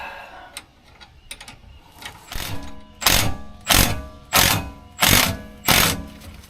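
A clamp is tightened while SuperSprings are fitted to a Ford Transit's rear suspension, making five evenly spaced loud ratcheting clicks close up after a few quieter taps.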